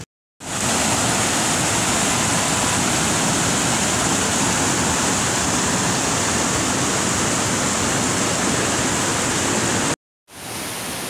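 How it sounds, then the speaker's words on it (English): A huge waterfall at Sarika Waterfall in Nakhon Nayok, Thailand roars as a loud, steady, broadband rush that fills the whole clip, with brief cuts at the start and end. "Behind me, huge waterfall."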